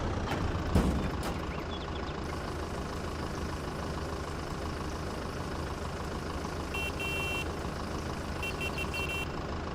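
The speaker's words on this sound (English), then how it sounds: "Nice beeper on that one" A farm vehicle in Farming Simulator 22 idles with a steady engine rumble, while its reversing beeper sounds twice in short bursts of rapid, high, even beeps near the end.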